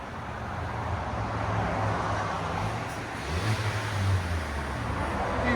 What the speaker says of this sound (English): This is what it sounds like before.